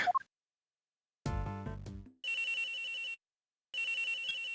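A short blip, then a synthetic video game phone ring: a brief tone followed by two buzzing electronic ring bursts separated by a pause, clean and close.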